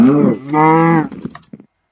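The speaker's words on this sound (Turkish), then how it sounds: "çünkü inek sesi çıktı" A cartoonish cow moo from a Minecraft texture pack sounds when the animal is hit. It is loud and close, a short two-part lowing call with a few clicks at the end before silence.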